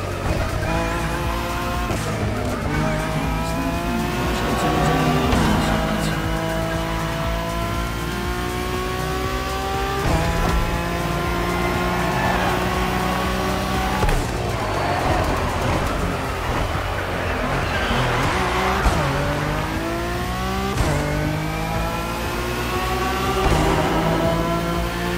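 Acura NSX GT3 race cars in a touring event in The Crew Motorfest, engines revving and shifting through gears with sweeping pitch climbs, tires squealing and skidding through turns, loud and continuous with no talk.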